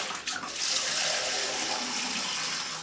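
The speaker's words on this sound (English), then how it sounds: "I'm just using cold water" Cold water runs from a kitchen tap to cool a container for homemade yoghurt, a steady close hissing stream that holds evenly for a few seconds without talk.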